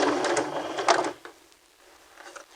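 A sewing machine stitches a straight-stitch hem on woven fabric, a close, steady mechanical whir for about a second before stopping, followed by faint handling clicks.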